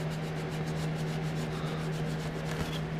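A thick plastic bath scrubber rubs steadily over a Jeep JK rim with a continuous close scratchy swishing, no pauses, alongside a low steady hum.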